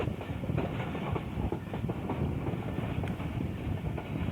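The Millat Express runs on the rails between Sargodha Junction and Bhalwal, a steady loud rumble with rhythmic clickety-clack of the wheels, recorded from near the carriage door with some wind buffeting.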